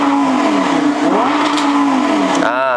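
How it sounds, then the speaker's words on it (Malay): A Lamborghini Gallardo LP560-4 with a 5.2-litre V10 of 560 horsepower revs hard close by, the engine note climbing and falling in a loud continuous roar before a final sharp rise in pitch. "sebiji bunyi V10 yang mengaum 500 horsepower"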